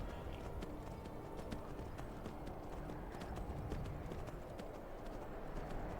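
Horse hooves clip-clop steadily over rough terrain in Skyrim, a brisk even gallop rhythm of sharp clattering impacts, close and continuous with no talk.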